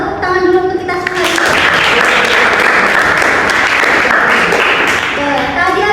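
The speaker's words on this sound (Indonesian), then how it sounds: "tepuk tangan dulu untuk kita semua" Classroom applause for a group after their presentations, a dense steady clapping wash that starts after a second of talk and fills the rest, with voices beneath.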